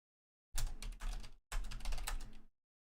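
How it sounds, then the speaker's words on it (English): Rapid keyboard typing during a tournament stream for a Total War Warhammer 3 multiplayer event, two dense bursts of clicking keys separated by a brief pause, close and alone without talk. "Just quickly typing some Discord stuff and sort out some tournament admin stuff."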